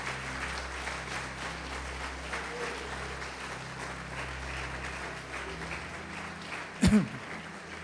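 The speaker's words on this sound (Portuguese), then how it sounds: "Pode aplaudir o Senhor e glorificar a Deus" A church congregation applauds in a sanctuary, soft diffuse clapping over a low background hum, with a brief sharp thump or handling noise near the end.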